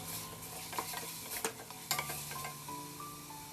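Masala with turmeric and chilli powder sautéed in a pan for chicken biryani, a soft continuous sizzle broken by several scraping stirs and spoon knocks, close but fairly quiet.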